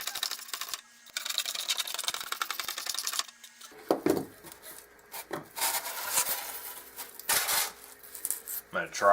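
A craft knife with a fresh blade scrapes and scores through sheet material, close, dry rasping strokes and small clicks in irregular bursts, with quiet handling noises between.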